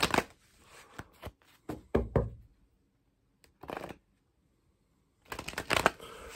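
Playing cards are shuffled by hand in short bursts of riffling and tapping, close and crisp, with pauses of silence between quick clustered flurries and no talk.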